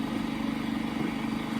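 FNK 25 A machine's motor running at its higher speed setting, a steady droning hum with a fast, even pulsing, loud and continuous without any voices.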